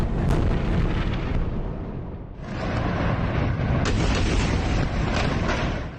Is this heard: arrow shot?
no